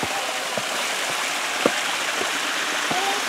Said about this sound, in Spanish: mira, qué bonita cascada está aquí.